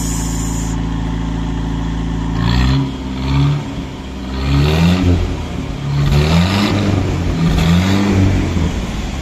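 A Land Rover engine is revved repeatedly from a loud idle, each rise and fall in pitch heard up close over several seconds with no talking.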